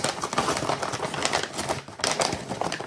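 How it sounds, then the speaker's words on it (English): An Amazon package is torn open up close, giving quick bursts of ripping and crinkling packaging in uneven, rapid pulses. "I've got Amazon ran downstairs, rip the packaging open."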